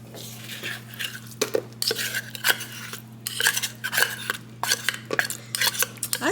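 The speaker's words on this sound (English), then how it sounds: "I'm going to now just add the tuna to this bowl here" Well-drained tuna is scraped from its can into an oversized mixing bowl, giving a run of irregular metallic clinks and soft scrapes of a utensil against the bowl over a steady low background hum.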